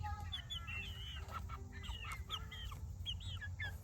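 Delaware chickens, a dual-purpose breed kept as meat birds, cluck and chatter steadily in a garden, several birds calling in quick overlapping bursts close by over a constant low background rumble.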